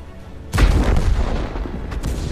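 A tank cannon fires in World of Tanks, a single heavy boom that bursts in suddenly and rolls on as a long loud rumble of battle noise.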